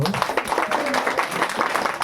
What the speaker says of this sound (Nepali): ल ताली बजाउनु।